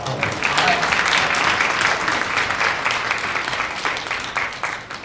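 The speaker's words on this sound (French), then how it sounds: "Sous vos applaudissements." A conference audience at a pop-culture convention in Toulouse breaks into sustained applause, a thick wash of many clapping hands that holds steady before tapering slightly at the end, with a faint voice early on.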